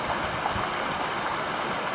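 Tributary stream of Confederation Creek flowing, a steady, close rushing and gurgling of water with constant broadband hiss, uninterrupted and with no voices.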